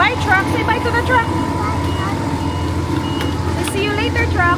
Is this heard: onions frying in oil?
no